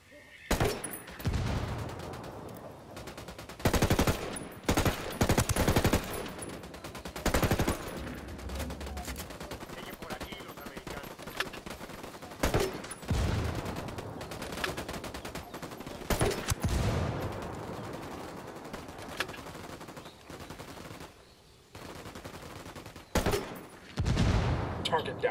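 Gunfire in Ghost Recon Wildlands comes in loud, close bursts of rifle and machine-gun shots with quieter gaps between them, and squad voices speak briefly in the pauses.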